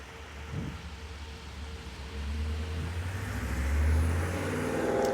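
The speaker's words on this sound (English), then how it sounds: "I would say there's a lot of cars out today" Cars pass along a road during an e-bike ride, a low steady traffic rumble that swells louder toward the end as a vehicle draws near, with wind-like background noise and no talking.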